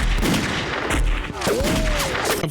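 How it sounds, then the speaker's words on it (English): Gunfire during a gun battle scene in a low-budget action movie: several sharp gun bursts crack out in close succession, loud and near, mixed with a rising whistling effect and brief voices. "culminating in a gun battle that you'll want to frequently pause because of the extremely weird effects"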